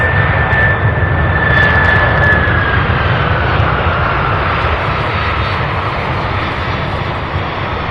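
A jet airliner arriving from Windsor Locks, Connecticut at Louisville's SDF airport roars loudly and steadily, with a faint high whine gliding down early on as it passes close by.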